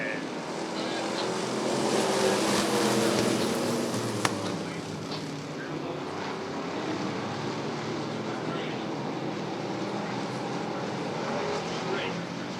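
Race cars roar around Rockford Speedway at the green flag of a bracket race, a continuous broad engine drone swelling early and then holding steady under a commentator's voice.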